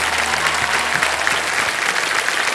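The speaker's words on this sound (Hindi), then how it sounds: "तालियां" A studio audience on a television quiz show claps for a contestant, a loud, dense, continuous burst of applause filling the room without letup.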